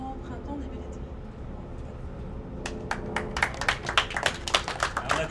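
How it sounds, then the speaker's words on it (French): A small group claps outdoors at the groundbreaking ceremony for a micro-crèche, the applause starting midway and building into close, lively clapping over a steady background hum. "On applaudit Vanessa pour son exploit."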